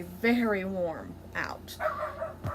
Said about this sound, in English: He's a sweet dog, but he barks at everything.